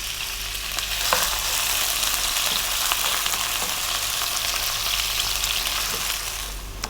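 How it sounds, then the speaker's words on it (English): Onions frying in a pan with black peppercorns and cloves for a dahi chicken curry, a loud, even, close crackling sizzle with occasional stirring clicks and no talk. "We're now going to go in with 1 cup of onion."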